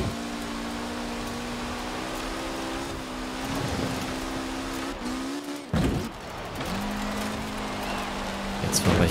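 A car in the racing game Forza Horizon 4 holds a steady engine drone that climbs in pitch under acceleration, briefly drops and gives a sharp scrape mid-slide, then settles back into a sustained high-revving tone.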